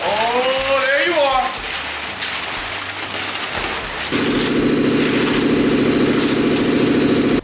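A supercharged 1965 Ford Mustang engine idles, a steady mid-pitched rumble that rises and holds louder in the second half, following some whining and handling noises at the start.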